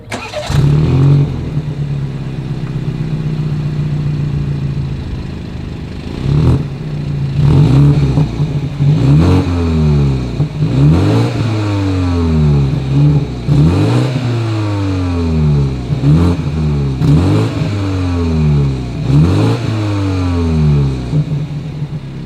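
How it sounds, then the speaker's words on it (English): A 2020 BMW X3 SUV engine starts, then revs repeatedly in a series of sharp throttle blips with a deep exhaust note, close by and loud. "As always, here is that exhaust clip."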